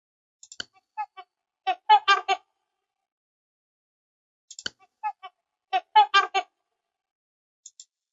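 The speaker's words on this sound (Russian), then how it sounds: "Это звук лебедя." A swan gives short honking calls in two separate bursts, each a rapid series of nasal notes with quiet gaps between, heard alone and fairly close.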